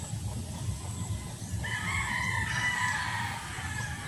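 A neighbor's free-roaming chicken clucks and crows near a cassava garden, its calls rising over a low rustling background, moderately close and with no talk.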